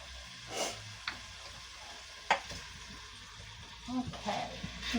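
Chicken searing in an Instant Pot, a quiet steady sizzle with occasional faint ticks and clinks of stirring, the frying low in the background throughout.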